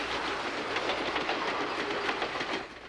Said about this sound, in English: Clickety-click, clickety-clack, clicking down the railroad track.